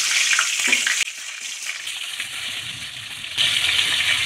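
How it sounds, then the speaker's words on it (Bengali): Sliced pointed gourd (potol) fries in hot oil for a korma, giving a steady, loud, close sizzle that dips briefly and swells again near the end. "পটলগুলো কিন্তু ভালো করে ভেজে নিতে হবে।"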